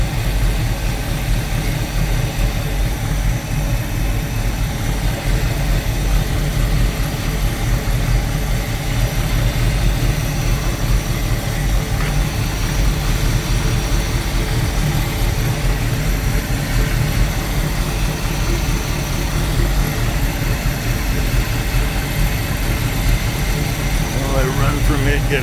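A 1971 Plymouth Cuda V8 with a coolant leak idling close by, a loud, steady, rumbling drone with a constant low throb throughout, with someone speaking over it at times.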